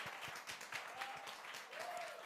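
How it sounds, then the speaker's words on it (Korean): A church congregation at a Sunday sermon breaks into applause, a steady wash of many hands clapping at moderate distance, fairly quiet and unbroken for a couple of seconds. "박수!"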